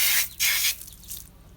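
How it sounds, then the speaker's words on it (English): A hose sprays water in bursts to wet brushes before cleaning car rims and tires, loud hissing spurts that pulse and then fade. "The first thing we're going to do is we're going to wet our brushes,"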